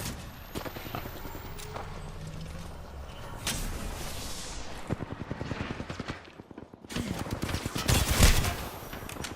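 Rapid gunfire rattles through an older shooter video game, with dense bursts of overlapping shots that grow sharper and louder toward the end, no voices over them.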